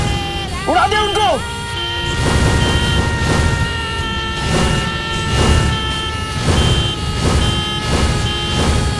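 A car horn honks loudly in a series of bursts over steady engine and road noise, with people talking and dramatic music in the background.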